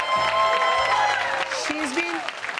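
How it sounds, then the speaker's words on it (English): An audience at an on-stage talk event applauds to welcome a speaker, a steady crowd clapping wash with talk and a voice heard over it. "Let's give her a big applause"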